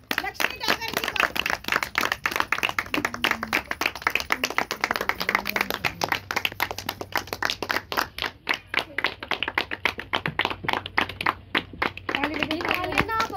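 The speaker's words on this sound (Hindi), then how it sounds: "तो आप सभी की जोरदार तालियों के साथ इनवाइट करेंगे लक्ष्मी डागर जी को।" Audience clapping at a Modicare meeting, sharp and dense claps continuing throughout the whole stretch, with faint voices and some background tones underneath.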